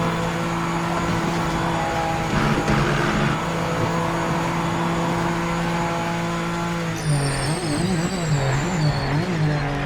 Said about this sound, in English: The downshifting is miles better, not gonna lie